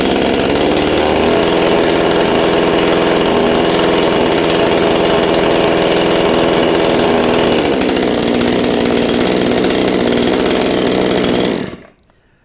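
A Garwinner 62cc gas chainsaw runs steadily at half throttle, a loud, close, continuous buzzing drone that holds for about twelve seconds before cutting off abruptly into silence.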